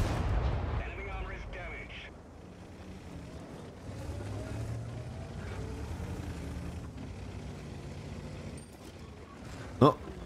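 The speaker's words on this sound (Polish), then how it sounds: "Semovente strzela." A Semovente tank fires its gun in the World of Tanks video game: one sharp, loud report near the end, rising above a steady engine-and-battle rumble with a voice-like murmur underneath.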